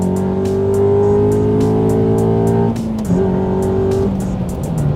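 A Honda Accord CL9 family sedan with a naturally aspirated four-cylinder engine and a Type R gearset accelerates hard. Its loud, close engine note climbs steadily, dips sharply at a gear change, then pulls upward again, with no talking.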